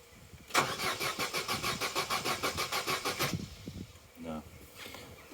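Opel Corsa B starter cranking in a fast rhythmic churn for about three seconds, catching briefly on easy start spray before stopping, followed by someone speaking close by.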